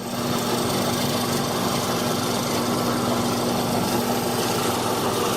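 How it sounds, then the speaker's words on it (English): A Holzmann STM4SB mortising machine cuts a mortise in wood, giving a loud, continuous motor drone with a steady hum and grinding texture that holds unbroken throughout, with no talking. "now we're going to establish the mortise at the other end."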